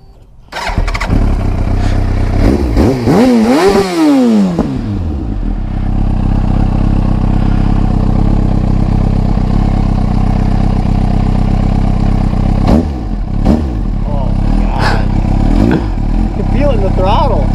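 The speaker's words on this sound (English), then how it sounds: "Fire it up. And it's got the exhaust that I've always wanted." A motorcycle fitted with a Two Brothers exhaust starts up loud and close, blips through several sharp revs and then settles into a steady idle, with a few more throttle blips later and people talking over it.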